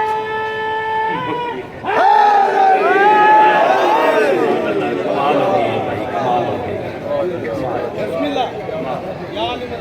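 A single voice calls out, then a large crowd at a Shia religious gathering in an imambargah in Gujrat answers with loud, overlapping shouted slogans in unison, close and sustained.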